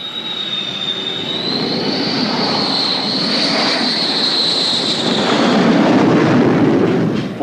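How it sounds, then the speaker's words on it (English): A Navy fighter jet flies past with a loud, continuous roar and a high engine whine that bends in pitch, then builds into a heavier rumble as it nears. "Flying fighters"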